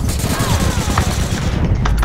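Rapid bursts of automatic gunfire from an online shooter game, APB Reloaded, crackle close and loud in quick succession across the short stretch, with a player's voice partly underneath.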